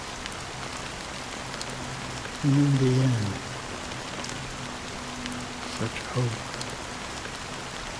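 Steady rain in the video game Honkai: Star Rail, a constant even hiss of falling drops behind someone speaking quietly, with a few low tones drifting through.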